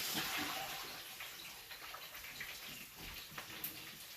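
Water pours and splashes steadily as soaked potato fries are drained in a kitchen, a continuous rushing trickle with small spattering drops, close and fairly quiet.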